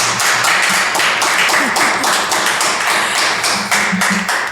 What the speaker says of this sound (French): vous prie d'accueillir avec moi Alice Nyapa sous vos acclamations